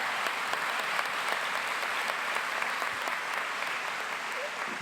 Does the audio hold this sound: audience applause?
yes